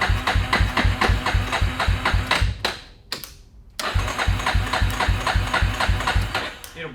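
A Yamaha Warrior 350 ATV engine, an abandoned quad low on gas, cranks and catches, then runs with a steady rhythmic chug for a few seconds. It briefly dies, then fires back up into a loud, close running rhythm.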